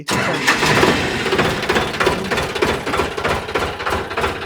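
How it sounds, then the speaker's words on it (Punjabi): A vehicle engine is started and revved at a roadside village sale near Santpura, Maur, running loud and close in a steady rough clatter with surging revs throughout, and no speech over it. "ਆਪਾਂ ਇਹ ਇਹਨੂੰ ਕਰਿਓ ਸਟਾਰਟ ਬਈ ਆਪਾਂ ਇਹਦੀ ਵੀ ਵੜਕ ਦੇਖ ਲਈਏ"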